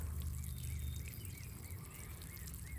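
Water poured steadily onto freshly transplanted loofah seedlings on a homestead, a soft continuous trickling under low background hum, fairly faint and unbroken.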